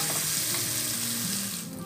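Malpuri batter fries in hot oil, a steady close sizzle and crackle with some liquid bubbling, continuous and fairly soft.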